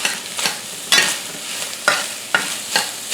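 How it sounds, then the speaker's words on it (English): Seasoned chicken cheesesteak meat sizzles in a pan while a utensil stirs it, giving about six rhythmic scraping strokes over a constant close frying hiss. "Stir this up."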